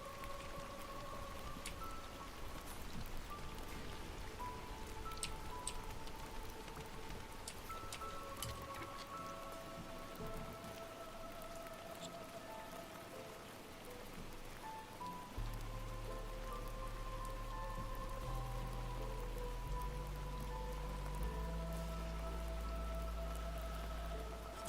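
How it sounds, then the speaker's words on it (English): Rain ambience playing over a city-building game stream (Against the Storm), a soft steady patter of raindrops under quiet game music tones, with no talking. "I never turned off my additional rain ASMR"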